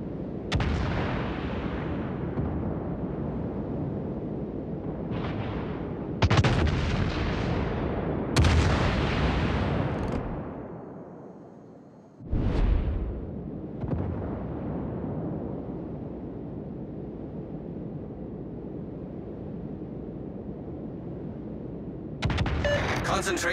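Naval guns fire on an enemy warship in a video game. Loud, heavy blasts come in separate bursts, each booming out and fading, with a short quiet stretch partway through.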